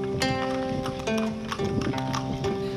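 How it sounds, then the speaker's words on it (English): Horse carts clip-clopping through Bagan, steady hoof beats on the road close by, with a continuous rattle of cart movement and a faint background hum. "Horse carts."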